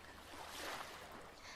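Ocean waves washing onto a beach form a soft, steady surf hiss that swells briefly in the middle, fairly faint with a little wind noise and no voices.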